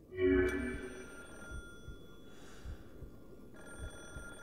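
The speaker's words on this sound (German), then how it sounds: "Das Telefon klingelt." A telephone rings in the horror video game Calling, a steady electronic trill holding on over dull rhythmic thuds, louder at the start and then settling to a moderate level with no talk.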